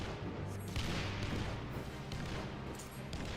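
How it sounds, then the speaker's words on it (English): Cannons boom repeatedly through a dense, noisy battle mix in the Final Fantasy 14 encounter, with blasts landing at uneven intervals over a constant rumble. "Now I can actually see and hear the cannons firing"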